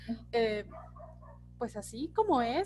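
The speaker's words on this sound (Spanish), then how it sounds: "perdón por los perros" Dogs bark in short bursts in the background during an indoor lecture-style talk, with someone speaking between and over the yips.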